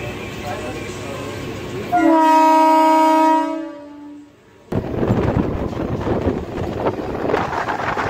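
A Pune–Lonavala local train sounds a long loud horn blast, then rumbles and rattles as it moves off from Pimpri Chinchwad station in the monsoon, with wind noise buffeting the microphone.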